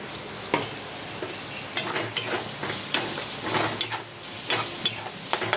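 Spice paste of turmeric, salt, chilli powder, cumin and coriander powder frying in a pan for a pointed gourd and potato curry with fat, a steady close sizzle broken by scraping stirs, no talking.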